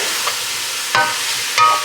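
Beef in a hot pan gives off a loud, steady sizzle, broken by two or three sharp scraping strokes of a utensil stirring the meat.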